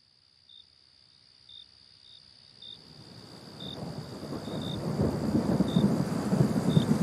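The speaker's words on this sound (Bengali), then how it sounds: "সমস্ত রাত্রি বৃষ্টি পড়িতে লাগিল।" A storm effect for a classic Bengali audio story. Crickets chirp in steady bursts, then a low rumble of thunder and rain swells from faint to full and loud, with no speech.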